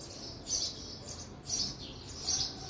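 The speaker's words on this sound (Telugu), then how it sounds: "బర్డ్స్ అరుస్తున్నాయి." Small birds nesting among potted garden plants beside a yellow hibiscus give three short, bright chirping bursts at a moderate distance over a quiet background.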